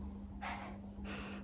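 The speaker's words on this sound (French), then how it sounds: "En même temps, je renifle." Someone takes two quick, quiet sniffs close up of a Fabulosa cleaning spray, each short inhale separated by a brief pause.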